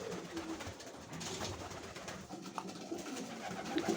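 Budapest pigeons coo softly in low, throaty murmurs against a rustling background, with a few brief flutters nearby.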